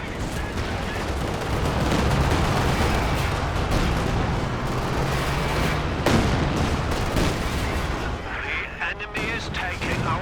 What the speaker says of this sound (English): Comes the Katyusha targeting the machine gun.